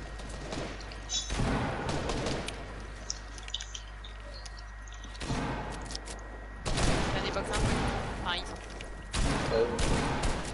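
Hunting-rifle shots ring out in a video game, a few loud bursts separated by quieter gaps, while a player talks over the action.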